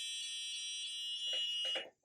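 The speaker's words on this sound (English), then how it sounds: "you can hear the alarm." A robot-built burglar alarm made with a beginner robotics kit sounds a steady, high electronic tone. It holds for over a second, then breaks into a few short pulses before cutting off. Nobody talks.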